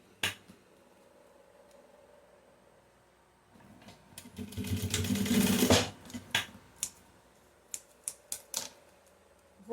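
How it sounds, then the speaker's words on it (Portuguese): A domestic sewing machine stitches a label onto a simple zippered pouch. A quiet background comes first, then a short burst of stitching, followed by sharp clicks and taps as the fabric is handled. "Já vou costurar aqui com a etiquetinha aqui."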